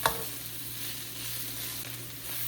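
Onion and capsicum sizzle and fry in a pan for street-style veg Hakka noodles, a steady close hiss with faint stirring scrapes throughout, no talk.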